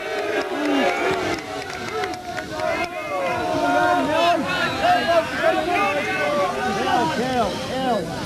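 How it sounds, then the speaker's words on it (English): Crowd at a 1993 county final lawn bowls match between North Midlands and Yorkshire at Coundon, shouting and calling out continuously, with a steady din of overlapping voices throughout. "And crowd are shouting, come on, Steve."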